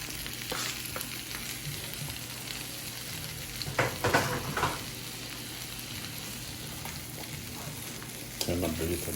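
Shrimp frying in garlic butter sauce, a steady close sizzle broken by a few louder bursts of stirring and tossing, with no talking.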